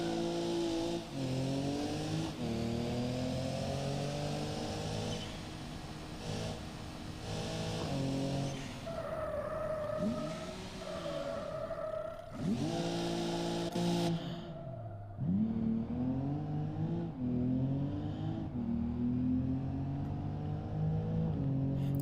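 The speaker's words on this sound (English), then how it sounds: "Here, I'll floor it so you can hear the turbos." In the BeamNG driving game, a turbocharged off-road vehicle at full throttle makes a continuous engine roar with rising and falling revs and turbo whine across repeated accelerations, loud and steady with no speech.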